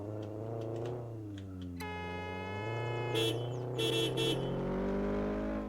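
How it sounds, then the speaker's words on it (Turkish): Honda Civic exhaust with a steady droning note that rises and falls with revs and strong low harmonics, loud and close, with brief sharp high bursts over it. "Egzoz ne güzelmiş lan öyle."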